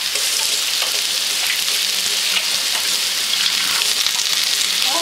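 Lentil walnut burger patties fry in a pan with a steady, close sizzle and crackle that runs without pause, with no talking over it.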